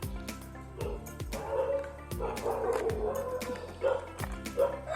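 A dog barks repeatedly in short, moderately near yips and woofs around a backyard garden farm, irregular bursts spread across the few seconds with light outdoor background noise.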